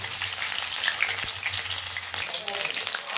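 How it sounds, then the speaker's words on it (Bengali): Paneer pieces sizzle steadily in hot oil in a pan, a dense crackling fry with soft stirring touches, close and continuous with no voices. "একটা সাইড আমার ভাজা হয়ে গিয়েছে, এখন আমি সাইড উল্টে এই পাশটাকে ভেজে নেব।"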